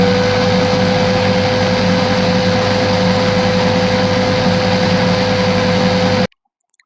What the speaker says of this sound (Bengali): সবগুলো উপকরণ এখন আমি আবার 1 মিনিটের জন্য ব্লেন্ড করে নেব।